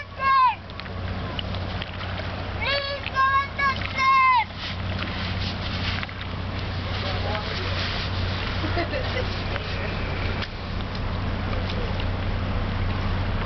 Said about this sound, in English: And there comes the wave coming in.